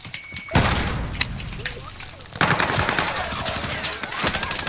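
Frag grenade blasts in a first-person shooter video game, sharp loud bursts at the start and midway amid continuous gunfire and battle noise.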